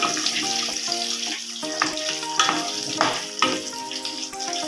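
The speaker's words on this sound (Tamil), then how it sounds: "ஒரு பத்து பல்லு பூண்டு போட்டுக்கலாங்க நல்லா வதங்கட்டும் பூண்டு வெங்காயமும் நல்லா கலர் மாறதாவது வதக்கிக்கலாம்" Garlic and onion fry in oil for a Tamil dry fish curry (karuvattu kuzhambu), giving a steady close sizzle with brief stirring and clinking throughout, no voices.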